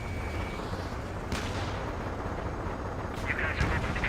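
Aircraft gunfire in the combat flight game Ace Combat 7 comes in a couple of short bursts over a constant roaring jet-engine drone, with an electronic tone near the end.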